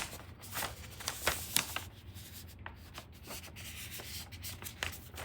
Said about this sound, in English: First of all, we fold section A underneath itself